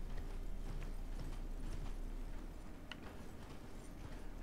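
Horse hooves clip-clopping in Elden Ring as the mount moves along, a steady galloping rhythm of muffled footfalls under a continuous game ambience, moderately loud with a couple of brighter clanks near the end.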